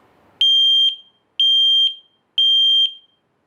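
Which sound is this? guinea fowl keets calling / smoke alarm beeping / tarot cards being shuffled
smoke alarm beeping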